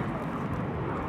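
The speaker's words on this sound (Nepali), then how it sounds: "अहिले भर्खरै प्लेन उडेको, त्यो प्लेनै नदेखिने भएछ यार।" An airplane that has just taken off and vanished into the clouds makes a steady, broadband jet roar, heard from a distance and unbroken for the whole short moment, with no talking.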